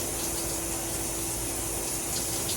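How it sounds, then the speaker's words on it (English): Water runs steadily and loudly while hair is rinsed under a shower, a continuous close gushing spray with no pauses and no talking. "I rinse it out"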